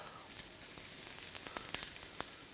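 Steaks sizzle steadily on a hot electric smokeless grill, a faint crackling hiss with occasional sharper pops.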